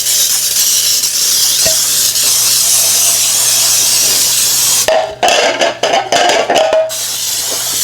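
A steady, loud hiss of baking spray from an aerosol can coating a cake pan runs for several seconds, then breaks into a few short sputtering bursts before resuming.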